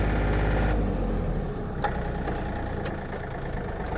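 A Yanmar US-324 mini tractor engine running steady in its lowest gear, a loud, continuous low diesel drone with a few faint clicks and knocks over it.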